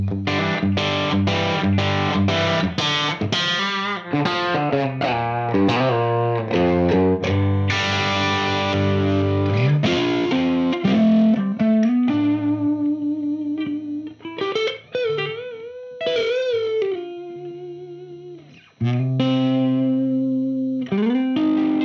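Distorted electric guitar played through a UAFX Lion '68 Super Lead amp into a 30-watt Celestion Greenback closed-back cab, close-miked with a 57 and a ribbon 121: loud chugging chords and sustained riffs, then singing single-note lead lines.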